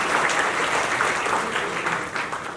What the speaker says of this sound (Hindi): इस पूरी टीम के लिए भी एक बार जोरदार ताली लगा दीजिएगा।